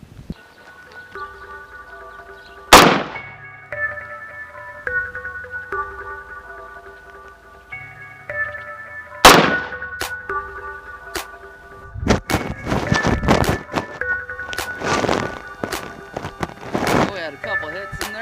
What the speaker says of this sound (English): We're going to shoot it with some M193 from Hornady.